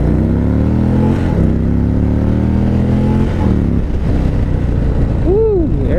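A big, heavy Indian Springfield Dark Horse motorcycle engine revs and pulls away, its deep rumble rising steadily in pitch with gear changes, loud and close.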